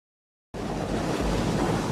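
Heavy waves surge and crash continuously around a sinking ship at sea, a loud, dense wash of water with rumbling wind, beginning abruptly after a moment of silence.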